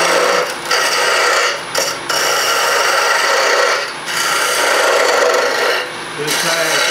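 A wooden spin top's rim is cleaned up on a lathe, giving a loud, steady rasping scrape of tool against spinning wood, broken by a few short pauses as the cut lifts off.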